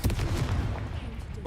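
Confringo blasting spell cast in Hogwarts Legacy, a loud low booming blast at the start with rumbling explosive bursts rolling on through the short moment, dense and close, with game sounds layered underneath.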